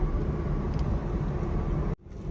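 A Honda City running on a CNG kit climbs a highway incline in fourth gear, giving a steady in-cabin engine and road rumble that drops abruptly near the end.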